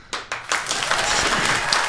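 Podcast audience breaks into applause for a guest, starting with a few separate claps that quickly swell into steady, dense clapping from a small crowd.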